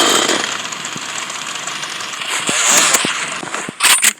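A chainsaw weapon in the Roblox Rivals video game revs with a loud buzzing roar, joined by crackling bursts and sharp hits of other game effects.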